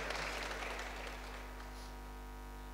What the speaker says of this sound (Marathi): एकदा जोरदार त्यांच्यासाठी टाळ्या वाजवायच्या सगळ्यांनी.